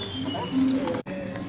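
Birds chirp and coo softly in the background while people talk nearby, the calls brief and intermittent.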